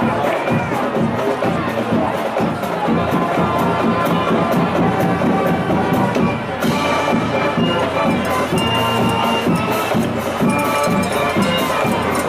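A high school football crowd at a HoCo versus North Atlanta game, a steady dense roar of many voices with cheering and shouting throughout, loud and continuous.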